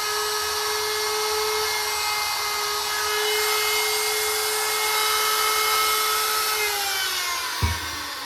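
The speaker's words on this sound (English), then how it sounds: "I'm sending my maple boards after I've resawn them back through the drum sander" A drum sander works resawn maple boards for a solid-body electric guitar cap, a steady high whine with a constant hum that holds for several seconds, then drops in pitch as the board exits, followed by a single knock.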